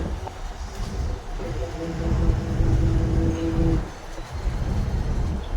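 A train rumbles past at moderate distance through village countryside, a steady low roar with a brief rising tone in the middle.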